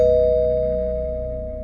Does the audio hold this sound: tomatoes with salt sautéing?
no